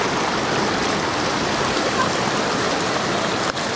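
Stream water rushes steadily over a small cascade at Horsetail Falls, a close, even wash of flowing water with no voices.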